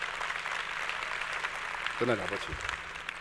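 An audience applauds at a motivational talk, a steady broad clatter of clapping that runs throughout the clip while a voice speaks over it partway through.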